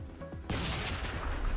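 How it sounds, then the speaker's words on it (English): Explosions in the Epoch Mod game go off in a chain reaction. One deep booming blast hits suddenly and rolls into a sustained, rumbling roar, preceded by a brief snippet of voice. "They're just like chain reaction explosions."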